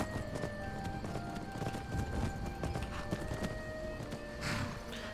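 Horse hooves clip-clop steadily in the video game Skyrim, a quick rhythmic series of hoof strikes at close range against a background of ambient game music tones, with a brief whoosh near the end.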